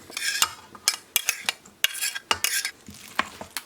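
Vegetable filling is stirred into galette batter in a bowl, with wet slapping and scraping strokes and sharp utensil clicks against the side, close and moderately loud, with no talk over it.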